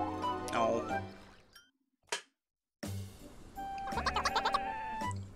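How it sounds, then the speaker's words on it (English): Sheep bleating in the video game Miitopia, a couple of short wavering cries separated by a pause, then a longer trembling bleat alongside game music and chimes. "Look, a sheep."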